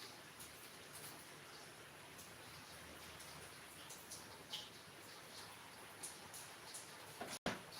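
Rain falls steadily as a soft, even hiss during a New Year's evening at Pantai Losari, with faint scattered drops and a brief knock near the end.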